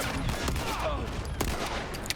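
Bursts of rapid gunfire in The Last of Us Remastered, a quick crackle of shots layered over game ambience at moderate level, with faint talk in the background.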